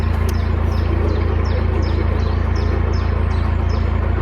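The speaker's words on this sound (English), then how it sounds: "That chiff chaff." A chiffchaff repeats its simple two-note song at a steady rhythm, faint and distant above a loud, constant low engine hum aboard a narrowboat.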